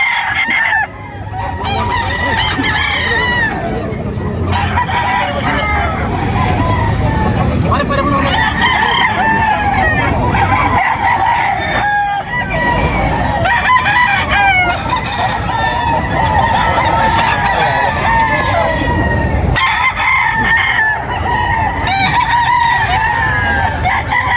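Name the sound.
gamefowl rooster crowing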